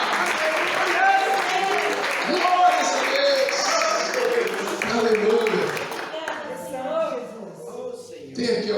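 Church congregation applauding during a worship service, a sustained wash of clapping mixed with voices and shouts of praise that thins out toward the end.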